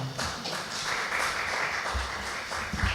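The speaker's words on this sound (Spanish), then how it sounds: "Un aplauso" Audience applause at an inaugural talk, a steady wash of many hands clapping together at an even level for the full stretch, with no voices standing out.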